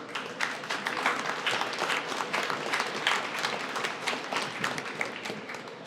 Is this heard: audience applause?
yes